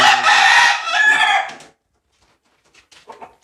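A fighting rooster with a wounded crop crows once, loud and close, for well over a second, then a quiet pause with a few faint clucks and rustles.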